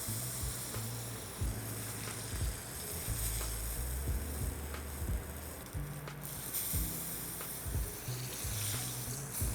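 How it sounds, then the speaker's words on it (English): Wagyu zabuton steak searing in a pot, giving a constant dense sizzle with low rumbling pops and brief hissy flare-ups throughout. "Now I've got a good sear on pretty much all the sides here."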